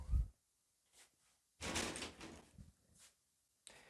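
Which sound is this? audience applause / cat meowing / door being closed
door being closed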